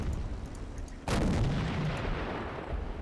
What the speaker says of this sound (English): Oh, this is actually an artillery piece